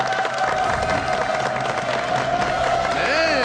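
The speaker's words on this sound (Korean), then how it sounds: "여러분 박수로 환영해 주십시오" A studio audience at a Korean TV health talk show claps steadily to welcome guests, a dense wash of applause with music playing over it.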